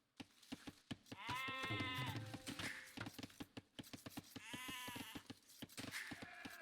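Sheep in a real-time strategy game match bleat in two long, wavering calls over a fast run of crisp clicks.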